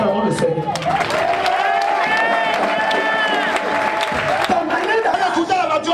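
Church congregation cheering and acclaiming the Lord during a healing service, a dense continuous crowd roar with raised voices and applause-like texture, steady and loud throughout.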